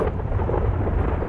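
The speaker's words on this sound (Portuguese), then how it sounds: "Meu Deus, vai cair a tempestade." Low rumbling thunder rolls continuously as a storm approaches in a GTA 5 roleplay game scene, a steady, fairly loud broadband roar with no voices over it.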